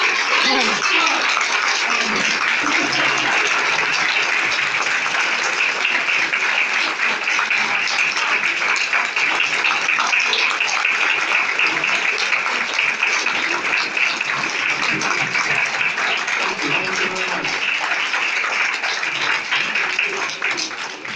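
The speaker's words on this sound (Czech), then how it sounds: "Prosím o velký potlesk" Sustained, loud audience applause for a magic musician at a live show, dense and steady for about twenty seconds with some cheering mixed in, no speech over it.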